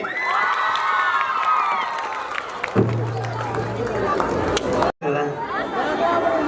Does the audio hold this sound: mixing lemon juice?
no